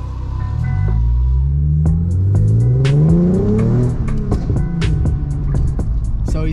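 A Lexus IS350 fitted with a flame tune exhaust revs and accelerates loudly up close, its engine note climbing through the gears, followed by sharp crackling pops as it comes off the throttle.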